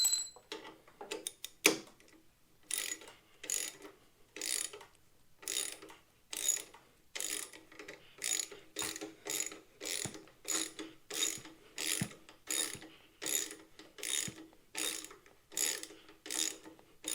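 A ratchet tightens the 6mm bolt on a passenger foot peg, close crisp clicking in steady back-and-forth strokes with short pauses between them and no talking.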